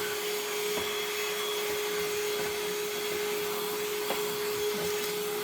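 A Shark cordless vacuum cleaner runs steadily inside an RV, a constant close motor whine with a fixed tone, broken only by a few brief clicks and rattles of debris being sucked up.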